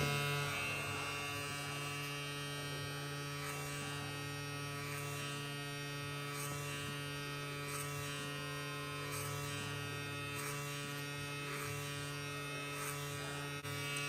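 Electric hair clippers with a number 3 guard cut hair during a mid taper fade, producing a steady, close electric buzz with faint brushing changes as they move through the hair.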